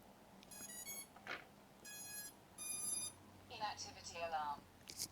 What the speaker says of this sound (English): Inactivity alarm.